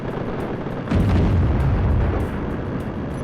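A loud explosion in a video game booms in the low range, swelling suddenly and rumbling on for about two seconds over a dense background of game noise.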